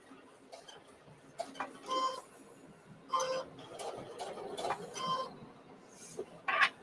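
A sewing machine stitches a fabric bowl mitt in short, quiet bursts of rapid ticking with pauses between them, recorded close up at low volume.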